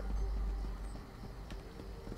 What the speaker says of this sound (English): Still have a horse, John.